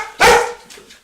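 A dog gives a single sharp, loud bark, followed by a softer trailing yelp, with no talk around it.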